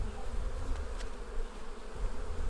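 Honey bees drone steadily around an open, thriving hive, a dense low buzzing that holds evenly throughout with a few brief individual fly-bys.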